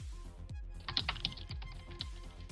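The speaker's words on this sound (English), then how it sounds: "That's the sound of a wonderful mechanical keyboard." Mechanical computer keyboard typing rattles in quick, close bursts of crisp clicks over a low, steady hum, with no voices.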